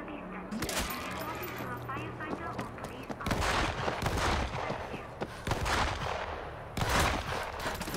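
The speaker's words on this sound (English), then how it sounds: "Those shots came from the highway." Gunfire in the World War Z video game, bursts of rapid shots and bangs mixed with chaotic game noise while voices talk over the action.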